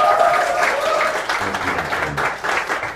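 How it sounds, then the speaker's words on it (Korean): A lecture-hall crowd at a political talk gives a sustained round of clapping, dense and loud throughout, with a faint voice briefly audible beneath the applause. "여러분 박수 한번 보내주시기 바랍니다."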